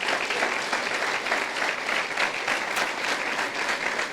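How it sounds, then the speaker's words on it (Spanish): Church congregation applauding during a sermon, a dense, continuous clapping with no break, fairly close and filling the whole moment. "si le vas a aplaudir, aplaudile con ganas"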